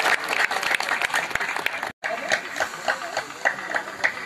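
Applause from an audience at a public event in India, greeting a child, made of dense, sustained clapping with a sharp cut partway through before it carries on steadily.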